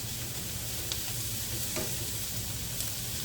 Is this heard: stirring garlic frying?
yes